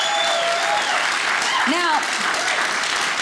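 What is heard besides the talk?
audience applause for veterans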